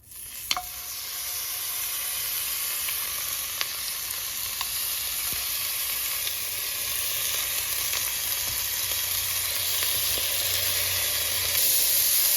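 Meat browns in a hot pan, just getting color on all sides, with a steady sizzling hiss that fills the whole stretch, broken by a few faint clicks and scrapes and no talking.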